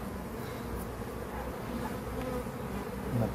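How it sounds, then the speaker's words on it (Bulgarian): Honey bees buzz in a dense, continuous swarm drone as they are shaken off comb from a top bar hive during a July honey harvest near Sofia. The sound is close and steady, with no voices. "Първо ги тръскам повечето пчели, накрая като останат малко ги измитам с"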